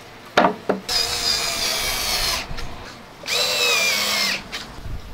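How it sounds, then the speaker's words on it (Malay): An EMTOP power drill whirs in two long bursts while fixing an IKEA TENHULT stool, preceded by a couple of sharp clicks and knocks, with a short pause between the runs; loud and close, no talking. "Mujur aku ada drill pelbagai drill bit H4."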